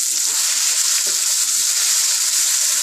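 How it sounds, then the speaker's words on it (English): Curry leaves frying in hot oil for idli masala, giving a loud, steady, close sizzle with bright crackling hiss throughout and no talking. "I have just added some oil on the side, and let this curry leaf get fluttered"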